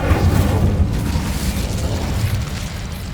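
An Incendio fire spell is cast in the video game Hogwarts Legacy, a loud booming burst of flame with a deep rumbling roar that rolls on steadily.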